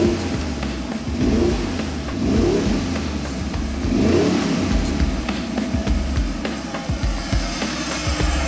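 A Chevy LQ4 V8 with an upgraded intake warms up with a steady, loud rumble and a few swelling revs, close by and alone.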